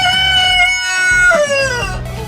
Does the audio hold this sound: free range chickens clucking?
yes